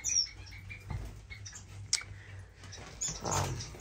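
Small finches in an indoor bird room chirp in short, scattered bursts over a low background hum, several high calls near the start, middle and end.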